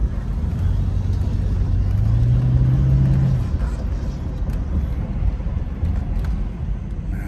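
A 1996 Chevrolet Impala SS driving, with a deep steady low engine rumble and road noise filling the cabin and a brief rising engine tone early on.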